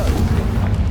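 Confringo fire spell blast in Hogwarts Legacy, a short low rumbling boom that stays dense and heavy for about a second, with no voices.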